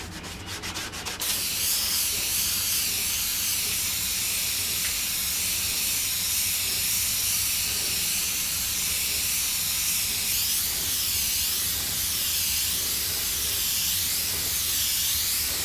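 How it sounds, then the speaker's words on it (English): An Iwata spray gun lays paint onto a motorcycle part during an FZR restoration, a steady loud airy hiss running without a break for about fifteen seconds after a brief rattling start. "As long as my Iwata's running, the Iwata is hard to beat."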